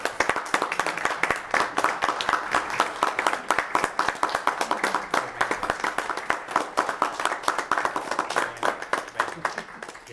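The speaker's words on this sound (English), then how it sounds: "If you would join us for standing ovation." Standing ovation at a town council meeting in Apex: steady, dense clapping from a room of people, sustained for the whole stretch with a slightly uneven rhythm and no voices over it.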